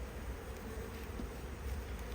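Buzzing of F1 Buckfast honey bees at a hive, a steady, dense hum that continues without a break and stays fairly quiet and close.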